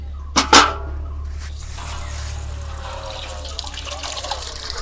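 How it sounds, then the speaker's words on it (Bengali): Government supply water runs from a tap into a bucket, a steady trickle over a low constant hum, after a couple of sharp knocks at the start. "বালতি ভরি আগে"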